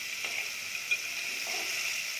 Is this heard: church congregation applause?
no